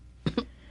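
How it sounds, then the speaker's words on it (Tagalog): Two quick, soft coughs in close succession from a person, faint and brief against a quiet room. "May ubo ka pala."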